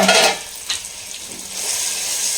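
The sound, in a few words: onions and tomato frying in a pan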